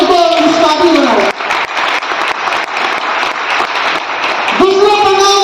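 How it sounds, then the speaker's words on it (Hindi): Loud crowd applause at a company's second anniversary event, a dense sustained clapping from many people that bridges between amplified speech at the start and end, with music tones under the voice. "एक बार जोरदार तालियां हमारे उन माता पिता के लिए जिन्होंने हमको इस काबिल बनाया।"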